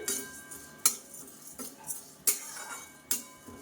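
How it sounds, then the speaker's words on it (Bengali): Dal frying in a pan is stirred with a metal spatula, giving three or four sharp scraping clinks at a steady, unhurried pace, close and fairly quiet, with no talking. "খুন্তি তো এটাকে ডালটাকে একটু ভালো করে ভেজে নেব"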